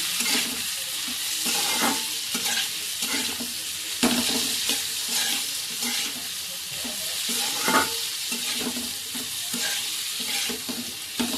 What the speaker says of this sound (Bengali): এবার ভালো করে ভাজা হোক।